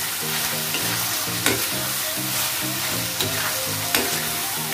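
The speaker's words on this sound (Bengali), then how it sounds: "এক মিনিট মতো ভালো করে কষিয়ে নিচ্ছি।" Spiced eggplant masala is stirred and sautéed in a pan, with a steady sizzle of frying under a repeating scrape-and-stir rhythm and a few sharp utensil knocks against the pan.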